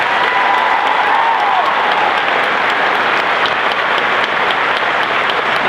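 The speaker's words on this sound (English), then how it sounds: "Let's give them one more round of applause." Loud, sustained audience applause for performers at a school band and orchestra concert, a dense wash of clapping filling the whole stretch without a break.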